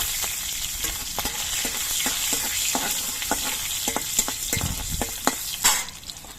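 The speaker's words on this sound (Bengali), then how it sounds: "এবার কাঁচা লঙ্কা আর কালো জিরেটা আমি কয়েক সেকেন্ড ভেজে নেব" Green chillies and black cumin crackle in hot oil, a steady close sizzle broken by sharp pops and spits throughout, with a louder burst of spattering near the end.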